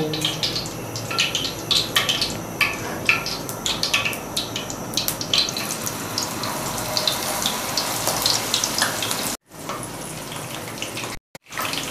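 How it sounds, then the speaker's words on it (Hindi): Okra (bhindi) frying in hot oil, a steady, dense bubbling sizzle with crackling spatters, close and fairly loud, broken by two short silent gaps near the end. "ऑयल गर्म हो चुका है और अब हम भिंडियों को ऑयल में डालेंगे"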